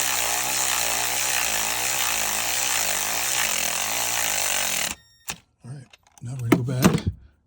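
A power tool drives and tightens bolts on a Buick LeSabre alternator, a loud steady buzzing whir for several seconds that stops abruptly, followed by brief clanks and someone speaking.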